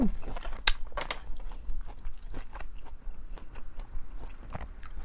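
Spicy rice noodle salad with shrimp and clams is bitten and chewed close up, with repeated crisp crunches and wet mouth sounds in an irregular rhythm, alone and without talk.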